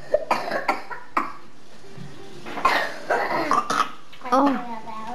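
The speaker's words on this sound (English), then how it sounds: "Oh, everyone's coughing." Several people cough in short, harsh bursts, some close and loud, others farther off, mixed with throat clearing and a voice at home.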